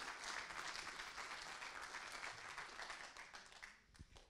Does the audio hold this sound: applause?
yes